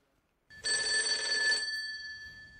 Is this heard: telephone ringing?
yes